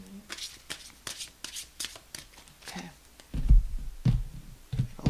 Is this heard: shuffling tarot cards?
yes